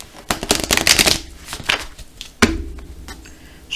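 Tarot cards being shuffled by hand, a run of close, crisp riffling bursts followed by a sharper slap as the deck is squared, then softer handling.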